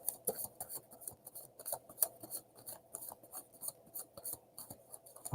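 Tarot cards being shuffled by hand, a steady run of soft papery riffles and flicks in quick irregular bursts, close and fairly quiet, with no talking.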